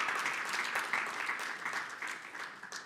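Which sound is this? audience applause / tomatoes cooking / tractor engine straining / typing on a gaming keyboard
audience applause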